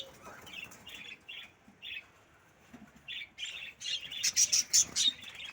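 Sparrows at a backyard sparrow setup chirping in short, bright bursts, sparse at first and then livelier with a rapid run of sharp tweets, fairly close and fairly quiet, with no talking.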